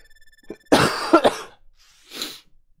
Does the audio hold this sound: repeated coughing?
yes